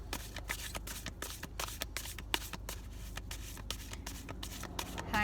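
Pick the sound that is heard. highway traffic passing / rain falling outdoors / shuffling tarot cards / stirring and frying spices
shuffling tarot cards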